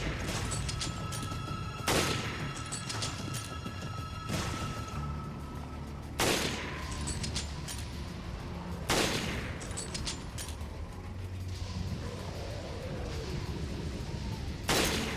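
Enemies fire on the player during the Crew Quarters area of Resident Evil Revelations Raid mode. Repeated loud gunshot bursts come every few seconds over a constant rumbling game ambience, with sharp attacks and decaying tails.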